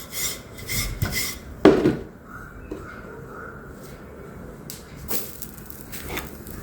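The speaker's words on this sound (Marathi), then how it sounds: "चला हा पण ह्याच पद्धतीने आपण सगळे पराठे लाटून घेऊ आता." Potato fasting paratha dough being rolled out with a rolling pin, giving soft rubbing, rasping strokes in an uneven rhythm with one louder knock near the start, close by and with no talk.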